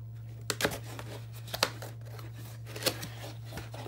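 Keyboard packaging from a Raspberry Pi 4 desktop kit being opened, with a few faint, sharp crinkles and tears of plastic and paper over a steady low hum, spaced about a second apart.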